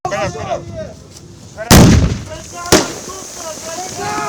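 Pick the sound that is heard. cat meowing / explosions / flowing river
explosions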